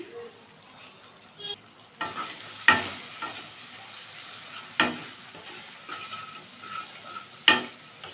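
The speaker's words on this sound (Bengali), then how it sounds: "একটু কষিয়ে নেব একটু কষিয়ে নিলাম" Pointed gourd sautéing with salt, turmeric, ginger paste and Kashmiri chilli powder in a pan: a soft continuous sizzle, broken by several sharp scraping strokes of a spatula, close up with no talk.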